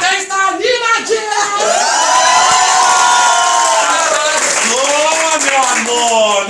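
Lively crowd of guests cheering, whooping and shouting together at a wedding party with a drag performer, loud and sustained, with a few voices rising above the din.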